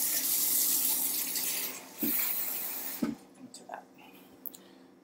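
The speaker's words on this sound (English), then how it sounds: "That will go right into my sink, and I'm just going to turn on the water" A kitchen sink tap runs in a steady hiss for about two seconds, then cuts off, leaving a few soft splashes and clinks, with quiet talk throughout.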